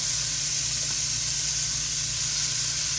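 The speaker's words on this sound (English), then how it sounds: "we're gonna get these shrimp going" Shrimp fry in hot oil in a pan, giving a steady, loud, close sizzle and hiss that runs without a break and has no talk over it.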